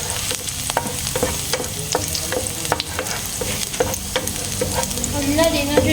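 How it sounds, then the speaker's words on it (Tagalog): Garlic sautéing in a pan, a steady sizzle of frying overlaid with repeated scraping strokes of a utensil stirring through it, close and continuous. "isa-isa ay gisa-gisa sa ating bawang"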